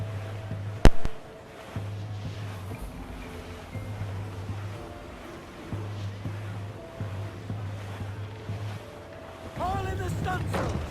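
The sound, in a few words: calm ocean waves in video game Assassin's Creed IV Black Flag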